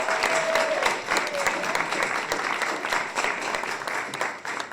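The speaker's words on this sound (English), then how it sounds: "Give them a round of applause as they make their way out." Steady audience applause at a leadership talk as a panel walks out, a dense patter of many hands, moderately loud and continuous throughout, with faint voices beneath.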